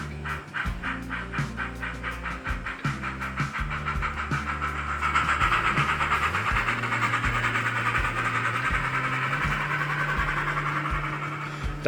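A small H0 scale model train rattles along the layout track close by, with rhythmic clicking over rail joints and a steady motor hum building in the middle.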